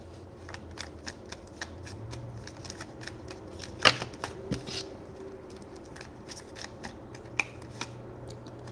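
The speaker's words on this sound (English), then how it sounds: "I'm gonna pull 10 cards from this deck and get some love messages from here." Tarot cards are shuffled and pulled from a deck in a close run of quick flicks, riffles and light taps, with a few sharper snaps, and no voices.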